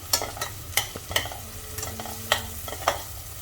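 Onion being stirred and fried over a high flame while making a cauliflower dish, with a constant sizzle and regular clinks of a spatula scraping the pan, crisp and close, with no talking.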